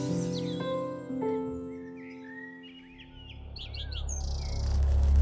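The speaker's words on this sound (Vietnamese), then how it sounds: "Có chim sẻ đến. Chim sẻ đến đấy." A cartoon sparrow chirps in several quick, high tweets over soft musical tones, with a low rumble building underneath toward the end.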